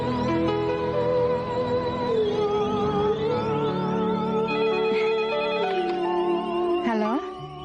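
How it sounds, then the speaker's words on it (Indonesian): A telephone rings steadily and loudly for about seven seconds over a dense layer of soap-opera music, then cuts off near the end. "telepon itu pasti dari Den Teto"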